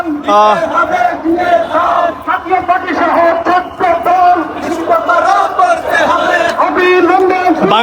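A dense political procession crowd in Lakshmipur, Bangladesh, marching to the district administrator's office, chants slogans loudly and rhythmically in unison, with many voices rising and falling in repeated call-like bursts throughout.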